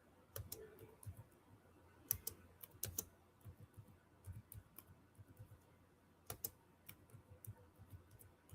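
Someone types on a computer keyboard, producing quiet, irregular bursts of clicking keystrokes with short pauses between runs, close by against a hushed room.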